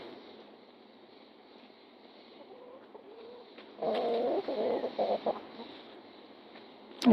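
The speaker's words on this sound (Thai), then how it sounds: "ปล่อยไก่ออกเลี้ยง" Chickens let out to range outdoors give a brief burst of clucking and cackling midway, fairly close, over otherwise quiet background with a small sound at the end.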